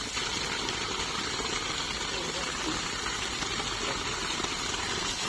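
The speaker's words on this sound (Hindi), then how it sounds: "यहाँ पे मोटर ऑन हो गई।" A 1.5 hp submersible water pump motor runs steadily at a farm well, a continuous even drone and hum with a watery rush that holds constant throughout, fairly loud with no clear talk over it.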